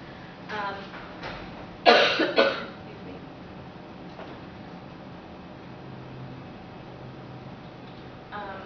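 A single sharp cough bursts out, followed by a shorter second one, against a quiet room with faint murmuring before it.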